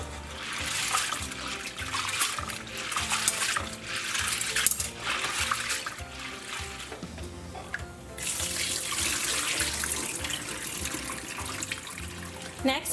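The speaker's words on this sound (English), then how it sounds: "next step is we need to rinse out our split peas or our dal" Yellow split peas, or dal, rinsed under a running tap, with steady splashing water and small rattles as the peas shift about, close up and without talk.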